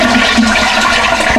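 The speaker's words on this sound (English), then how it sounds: "We're going to flush it and hold the valve down so that it thoroughly empties out." A toilet flushing with its flapper valve held down so the tank empties fully: a loud, steady rush of draining water, close and continuous with no talking.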